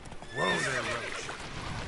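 Roach, Geralt's horse in The Witcher 3, gives a loud close whinny of about a second and a half, a rising-then-falling neigh with clip-clop hooves underneath and no talk over it.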